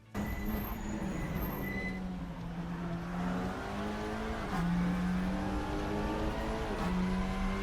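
A Leon Cupra TCR touring car lapping Laguna Seca in Assetto Corsa, its engine droning steadily at high revs with pitch dips and climbs through gear changes and corners, loud and close with no talking.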